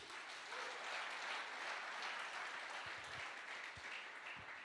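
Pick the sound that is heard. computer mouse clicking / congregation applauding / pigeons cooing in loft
congregation applauding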